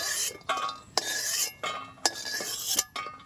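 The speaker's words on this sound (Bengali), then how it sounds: "বাদাম কটা ভাজা হয়ে গেছে এবার আমি তুলে নিচ্ছি" A spoon scrapes and clinks against a pan while lifting out fried almonds, with several sharp metallic taps at irregular intervals over a steady faint sizzle.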